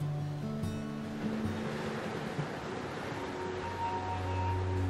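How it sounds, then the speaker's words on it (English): Sea waves washing against a seawall at night on the Peloponnese coast of Greece, a steady soft wash of surf with low rumbling undertones, continuous and fairly distant with no voices. "Night has fallen, and all is quiet, but for the magic sound of the sea."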